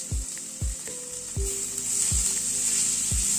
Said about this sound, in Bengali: আদাটাকে দিয়ে হালকা একটু ভেজে নিচ্ছি।